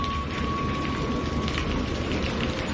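Heavy rain pours down in a steady, dense roar with no pauses, and a faint low rumble of thunder sits underneath; no one speaks.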